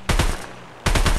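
Two quick bursts of automatic gunfire in Stalker Online, each a loud rattling string of three or four close shots, separated by a brief pause.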